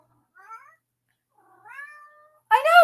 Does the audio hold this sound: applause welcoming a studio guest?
no